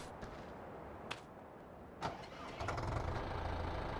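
A tractor engine in the Farming Simulator 15 video game cranks with a few soft clicks, then starts and settles into a low, steady idle that continues to the end.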